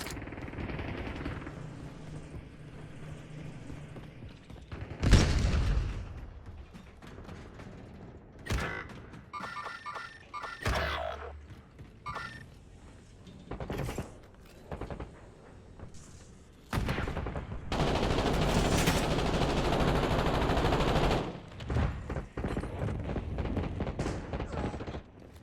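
Gunfire bursts from the video game Call of Duty Warzone, with sharp shots and rattling automatic fire spread through the clip, louder clustered volleys near the end, mixed with mechanical game noises.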